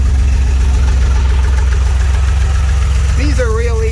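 A 1981 DeLorean DMC-12 engine idles steadily at operating temperature with a slightly high curb idle, a loud continuous low rumble throughout, and a brief tonal squeal or voice-like sound rising near the end.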